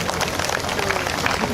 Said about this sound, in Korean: 여러분께 다시 한번 큰 박수 부탁드리겠습니다